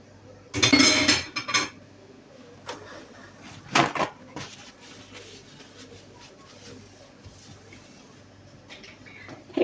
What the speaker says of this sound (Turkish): Hepsini birlikte karıştırıyorum arkadaşlar şu anda yavaş yavaş